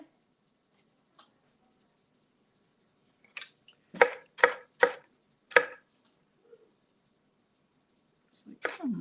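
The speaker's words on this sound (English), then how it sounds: "I'm gonna keep chopping because I don't like really big pieces." Pecans being chopped with a knife on a board for a pecan cream pie: a quick run of four or five sharp, close chops clustered mid-clip, with a few lighter taps around them and brief talk at the end.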